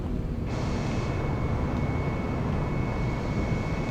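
Airbus A320neo jet engines at full thrust during a takeoff roll in Microsoft Flight Simulator 2020, a loud steady roar with broad rushing noise and a thin high whine, continuous and alone.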